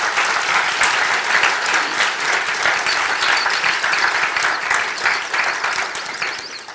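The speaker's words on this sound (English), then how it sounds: "Gavin, round of applause for Gavin." Enthusiastic applause from a crowd, dense steady clapping that stays loud throughout and tapers only slightly at the end.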